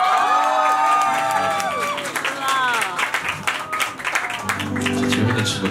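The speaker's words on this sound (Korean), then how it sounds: "박수 한번 주세요." Voices carry on over a live pub audience that breaks into applause, the clapping growing denser and more spread out toward the end.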